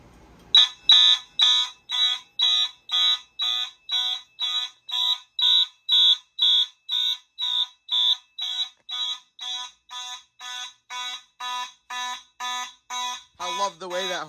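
A Simplex fire alarm horn blares in a steady, evenly spaced series of loud pulses, about two per second, continuing for many seconds with a brief voice at the end.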